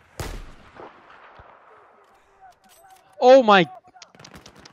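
Gunfire in the video game Battlefield 4, a sharp shot burst at the start and a louder blast near the end, with someone talking over it.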